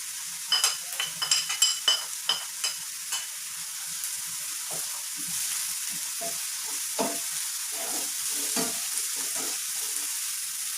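Ginger, garlic and two green chillies fry in a pan for an egg and potato curry, with a steady close sizzle and several clinking stirs of a spoon near the start.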